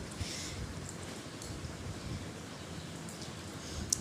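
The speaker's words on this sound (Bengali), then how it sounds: "এখন আমি একটা কড়ার মধ্যে তেল পরিমাণ মতন দিয়ে দিয়েছি এর মধ্যে আমি পেঁয়াজ মরিচ দিয়ে দিয়েছি" Onions and green chillies fry in oil in a kadai wok, a faint, steady, fine crackling hiss that continues evenly with no voices.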